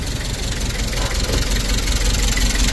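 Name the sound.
1997 Toyota Hi-Ace engine idling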